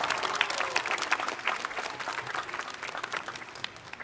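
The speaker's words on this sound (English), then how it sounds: "Can we give them a little round of applause?" A high school commencement crowd applauds the drum line after its entrance, lively clapping from a large audience that gradually thins and softens toward the end.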